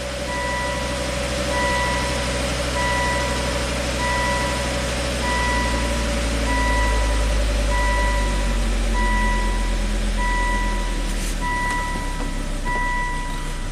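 A freshly repaired Volvo engine that had previously blown up idles with a steady low rumble, while a regular electronic beeping repeats over it throughout.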